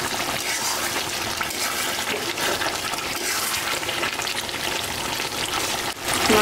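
Meat cooking in a pan just after a little water is added, a loud continuous hiss and bubbling sizzle that holds steady close by, with a brief knock near the end.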